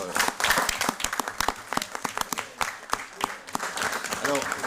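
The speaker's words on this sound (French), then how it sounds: "je crois qu'on peut applaudir" Council members applaud after a vote result is read out in a municipal meeting, a burst of many hands clapping unevenly in a room, with faint voices underneath.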